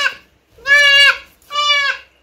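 Goats on a farm, a small one among them, give two loud, close bleats with a faint cry just before, each call wavering and separated by short silences.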